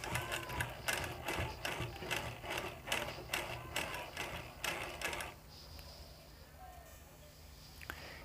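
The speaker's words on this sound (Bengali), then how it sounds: "আবার এই পর্যন্ত মেশিনে হাত ঘুরিয়ে ঘুরিয়ে সেলাই দিয়ে দিতে হবে" A hand-cranked sewing machine stitches fabric ribbon with a steady series of rhythmic mechanical clacks for about five seconds, close and clear, then falls quiet with only faint background noise.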